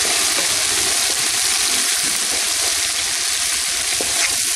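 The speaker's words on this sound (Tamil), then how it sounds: "நல்லா கொதிச்சுட்டு இருக்கு" A pan of liquid boiling vigorously, a loud, unbroken bubbling hiss that holds steady from start to finish.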